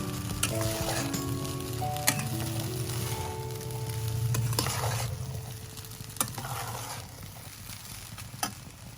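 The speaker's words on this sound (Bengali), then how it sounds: "গোলমরিচের গুঁড়ো দিয়ে হালকা করে আবার নাড়িয়ে দেবো" Veg fried rice sprinkled with black pepper powder sizzles in a pan as a spatula stirs and scrapes it, with a few sharp metallic clinks over a steady frying hiss, close by and with no speech.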